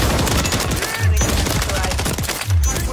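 Continuous rapid automatic fire in the Call of Duty: Modern Warfare 3 multiplayer game rattles loudly and close, punctuated by two deep thumping impacts about a second and a half apart.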